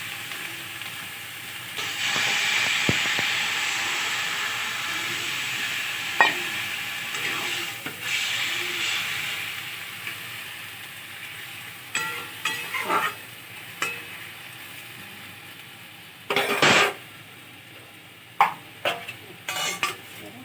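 Water poured into a coconut dish cooking in a hot pan, a loud hissing burst of steam that fades and breaks up into intermittent sizzles and clinks toward the end.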